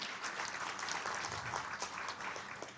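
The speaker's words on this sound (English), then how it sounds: "Please give applause to Sumitomo Indonesia." Audience applause at the grand launch of the Hiroshima University Alumni Association Indonesia Chapter: a steady, dense wash of many hands clapping at once, fairly faint and continuous throughout with no speech over it.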